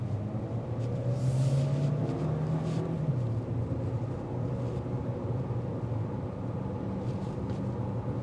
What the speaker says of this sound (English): The engine's pretty throaty for the most part.